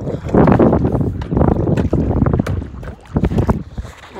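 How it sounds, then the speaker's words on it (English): Kayak paddles dig hard into pond water against the wind, with loud close splashing strokes in an irregular rhythm amid heavy wind noise buffeting the microphone. "So you can hear the paddles paddling kind of hard because we have to paddle against the wind."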